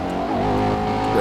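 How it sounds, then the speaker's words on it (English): A car engine in the GTA 5 video game roars steadily at high revs, loud and close, with a sustained droning tone and no distinct separate pops standing out. "Backfire."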